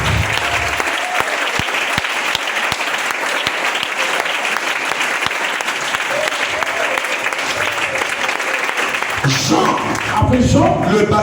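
A church congregation breaks into sustained applause with a dense, steady patter of many hands and some crowd noise. The clapping continues at a strong level for the whole stretch.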